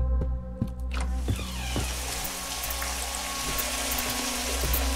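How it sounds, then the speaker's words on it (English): Running water in a video game house: a steady, loud rushing hiss of flowing water over a low hum, with a few clicks near the start, continuous for the whole stretch. "Running water."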